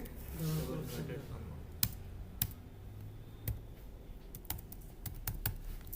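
Keystrokes tapped out on a computer keyboard in sparse, irregular clicks over a low background hum, with soft speech murmuring beneath during a software automation lesson.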